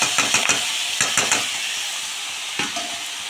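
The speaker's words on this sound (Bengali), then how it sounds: "ভাজা ভাজা হয়ে গেছে, এবারে লাউটা দিয়ে দেবো।" Tender bottle gourd tipped into a hot pan of frying prawns for Bengali lau chingri, hissing and sizzling loudly as it is stirred, with sharp scraping strokes of the spatula at an irregular rhythm.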